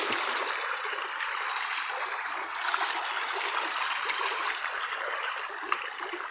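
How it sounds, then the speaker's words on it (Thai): A steady rush of water gushes into a catfish pond, a constant close hissing stream with faint gurgles and no pause throughout, heard alone without voices. "โอ้โหน้ำกระชูด"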